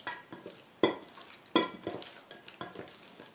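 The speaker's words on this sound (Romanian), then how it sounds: "Și amestecăm foarte bine carnea" Rabbit meat gets mixed with rosemary in a dish, producing rhythmic wet stirring and scraping strokes with soft clinks of a utensil against the bowl, close up and quiet with no talk.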